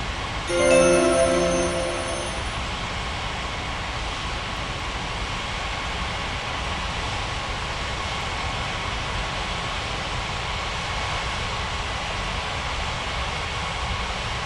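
An airliner landing on runway 32 left at White Center International Airport in an airport simulation game, a steady broad engine roar that stays level throughout, with a brief higher whine near the start.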